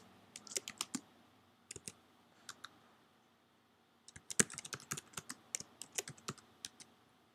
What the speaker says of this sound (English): you can type right into this area